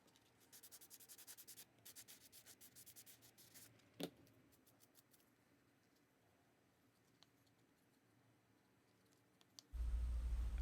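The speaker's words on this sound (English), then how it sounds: "I am using the sanding block here just a little bit" A sanding block rubbing along the sharp edge of a resin coaster, giving a burst of quick scratchy strokes at first, then quieter light rubbing, with a sharp knock near the end.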